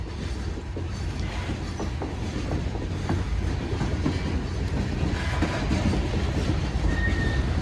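A Union Pacific freight train in Newport, Arkansas rumbles past at steady volume, its wheels clattering continuously with faint metallic brake squeal as it slows.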